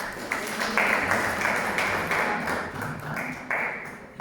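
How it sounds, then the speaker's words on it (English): An audience applauds a prayer during a talk on mental health and self-compassion, a continuous, fairly soft roomful of clapping with a few louder bursts and no voices. "Again, a round of applause for prayer."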